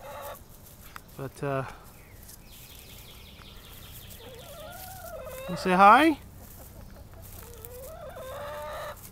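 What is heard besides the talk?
chickens clucking in their run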